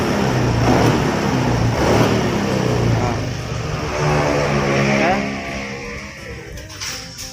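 Suzuki Satria FU fuel-injected motorcycle engine, fitted with an automatic fuel pressure regulator setup, running loud and close with a steady rough drone that swells under throttle and eases off near the end, with talk partly over it.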